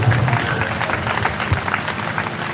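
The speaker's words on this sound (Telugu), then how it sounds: "వారు వస్తుండగా చప్పట్లు కొట్టి ప్రేమతో వారిని ఆహ్వానం" An audience at a Christian church gathering claps steadily in welcome as a reverend arrives, a continuous wash of applause throughout.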